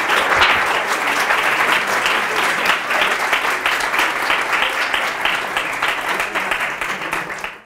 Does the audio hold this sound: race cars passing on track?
no